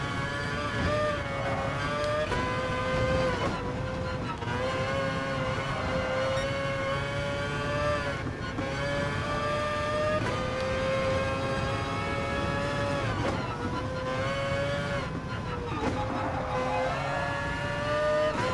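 A race car engine in Gran Turismo Sport revs hard and steadily through the gears, a loud continuous whine that climbs in pitch, drops briefly at each shift and climbs again, with no talk over it.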